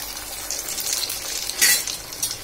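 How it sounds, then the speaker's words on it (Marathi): Bread chum chum deep frying in hot oil over medium heat, a steady close hiss of bubbling oil with a brief louder sizzling burst partway through and light utensil clinks. "तर आपण आता चमचम तळून घेऊया"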